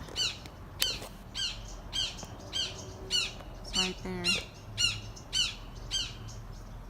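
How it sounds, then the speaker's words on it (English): Hawk perched in a tree in a garden, giving a steady series of sharp, repeated squawking calls about every half second, fairly loud and clear over a low outdoor background, with a brief spoken line partway through. "There's a hawk in a tree."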